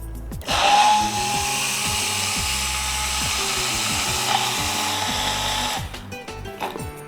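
Cumin drink mixture churned by hand with a wooden churner, a steady rapid rattling and clacking whir running continuously, close and fairly loud, with no talking.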